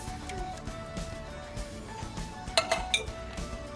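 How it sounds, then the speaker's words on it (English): Tomato sauce and petite diced tomatoes go into a cooking pot for cioppino, bringing light clinks and knocks of cans and utensils against metal cookware at close range, with a sharper cluster of clatter near the end. "Okay, so we're going to put our tomato sauce in our pot. Then we're going to add our petite diced tomatoes."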